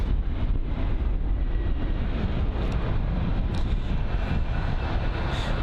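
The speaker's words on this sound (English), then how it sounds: "So that's Logan Air and their E145 from Londonderry" A Logan Air Embraer E145 jet landing at London Heathrow gives a loud, steady broadband roar mixed with wind buffeting on the microphone, with no talk.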